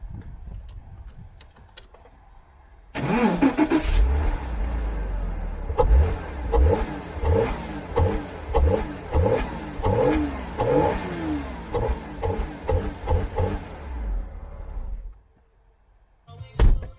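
A Porsche Boxster 986 with its intake snorkel removed cranks and fires after a quiet start, then settles into a series of sharp throttle blips, rising and falling revs in a rhythmic pattern, close and loud before cutting off.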